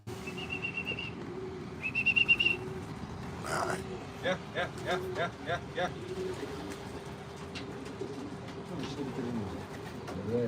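Birds call and coo outdoors, with a few short chirps and a quick run of repeated notes over a steady low rumble and faint voices.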